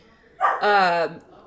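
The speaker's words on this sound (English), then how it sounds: "sorry about my dog." A dog gives a single short, close, loud bark-yelp indoors with a whining tone, alone without any talk over it.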